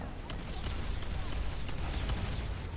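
A volley of rockets fired in a large online shooter battle, a dense continuous barrage of overlapping blasts and rumbling fire with no pause.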